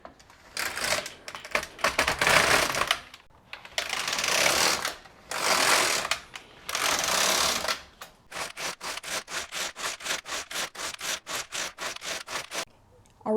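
A knitting machine carriage is pushed back and forth across the needle bed, first in several long rasping sweeps, then in a fast, even run of short clattering passes, loud and close.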